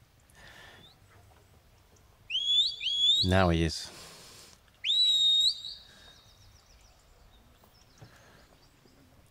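Shepherd's whistle commanding a five-year-old sheepdog at a sheepdog trial: two loud, sharp rising-and-falling whistle blasts a couple of seconds apart, over quiet outdoor ambience with a brief spoken remark.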